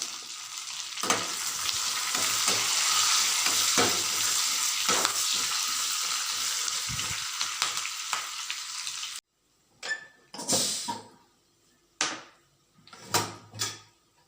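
Curry leaves stirred into hot Tamil ven pongal at the end of cooking: a steady sizzling hiss for several seconds, then a pause and a few separate scraping stir strokes, with no talking.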